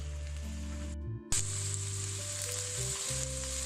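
Okra and onions fry in a cup of oil, giving a steady, close sizzle broken by a brief dip near one second before the hiss surges back louder, with no talking.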